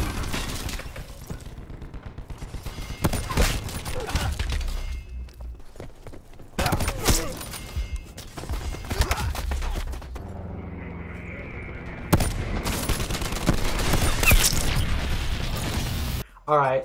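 Sniper rifle fire in the video game Black Ops 4, with sharp loud shots and mechanical bolt clicks and rattles recurring through a busy game mix.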